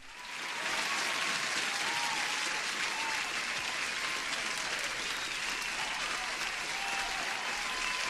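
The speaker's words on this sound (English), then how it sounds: "Camille, you deserve an applause." Sustained applause from a crowd, a dense even wash of clapping that swells in quickly and holds steady for several seconds.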